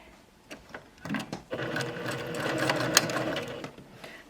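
Sewing machine stitching a 3/8 inch seam on a cardigan, starting with a few short bursts and then running steadily in a close, even mechanical whir, with no talking.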